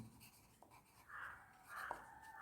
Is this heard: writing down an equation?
yes